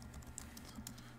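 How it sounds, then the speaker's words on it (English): Quiet typing on a computer keyboard with a few soft key taps spread over a brief moment, set against faint low background hum. "Type in a table name"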